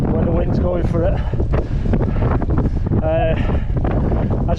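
Strong wind buffeting the microphone out in wild hill country, a steady roar with gusty swells, and a person talking over it throughout.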